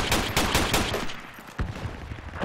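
Rapid gunfire in the military shooter game Project Reality, dense bursts of automatic shots cracking close and loud, pausing briefly before another sharp volley, with no talking.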